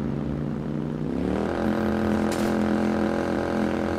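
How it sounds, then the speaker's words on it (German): Motorcycle engine in the Watch Dogs video game, a steady droning hum that rises in pitch as the bike accelerates, then holds a sustained loud tone while riding, with no talking. "Mit dem Motorrad lässt sich gut fahren"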